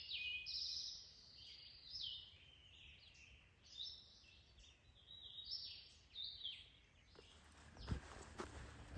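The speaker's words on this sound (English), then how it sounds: "get to listen to the birds and see the sky" Birds sing and chirp at a damp forest campsite along the Appalachian Trail ridge line, faint and at a distance, in scattered bursts with a few soft footsteps and rustles nearby.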